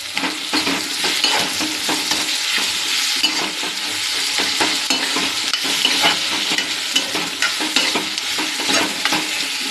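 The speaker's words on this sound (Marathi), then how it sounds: "आता मी टाकते टोमॅटो आणि कोकम टाकते." Tomatoes and kokum hitting softened onions in a hot pan, giving a steady loud sizzle and frying crackle with stirring scrapes throughout and no talk.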